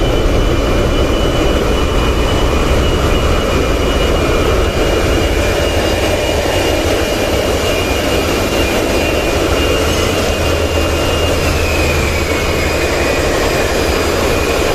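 Engine room of a twin-engine passenger launch boat, a loud, steady drone of engines with a constant roar and a faint whine above it, running unbroken throughout with no voices.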